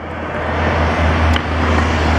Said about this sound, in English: oh, hey truck